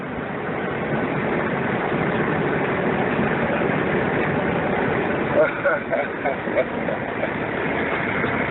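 A truck engine rumbles low and steady while inching through a swamp during hurricane cleanup, a continuous dull drone with faint splashing or knocking toward the end and someone talking over it.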